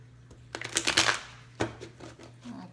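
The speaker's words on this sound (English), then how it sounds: "I'm going to just shuffle this once." A deck of tarot cards is shuffled once up close, a quick burst of riffling clicks followed by a few softer taps as the cards settle, with no talking.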